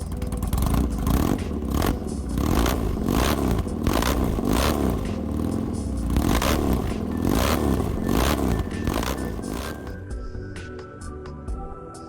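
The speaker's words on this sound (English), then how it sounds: "The sound of most candidates' engines." Cafe racer motorcycle engines rev in a continuous loud sequence, rising and falling throttle bursts one after another, a different machine's tone in each stretch, ending with a quieter idle in the last two seconds.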